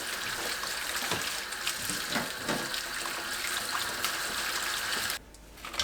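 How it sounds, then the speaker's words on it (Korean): Apples being washed under a running kitchen tap for apple pickle, with a steady, loud rush of water and small splashes and knocks as the fruit is handled, before the flow stops abruptly near the end. "사과를 흐르는 물로 씻어주세요."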